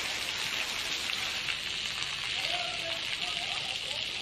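Steady rain falls over Jamnagar city, a dense, even hiss of drops on surfaces that holds level throughout, with faint voices murmuring in the background.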